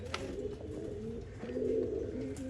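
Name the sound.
pigeons cooing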